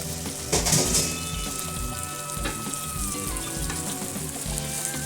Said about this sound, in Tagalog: Ilagay na natin para igasa.